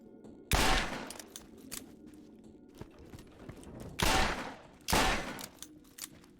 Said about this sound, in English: I'm just shooting them for the heck of it